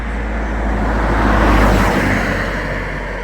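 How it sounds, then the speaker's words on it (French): A car passing on a road between Vairé and Talmont-Saint-Hilaire in France, a loud, steady rushing roar that swells near the middle and eases off, with no talking over it. "Et puis voilà une voiture."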